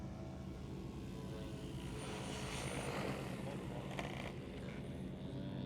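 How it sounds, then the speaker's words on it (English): An OMP Hobby M4 Max RC helicopter flies at Joe Nall 2024, a steady whirring rotor and motor drone holding level throughout, moderately distant, with no talk over it. "M4 is a nice helicopter."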